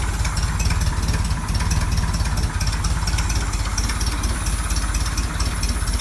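A 1957 30hp Volkswagen Oval engine idles slowly with no air filter and the lid open, a steady, close, even low rumble throbbing without pause.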